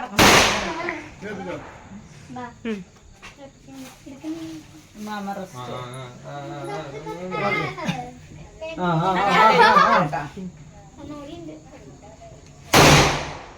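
Sharp firecracker bursts crack out among lively children's voices during Vishu celebrations, with a loud final bang near the end.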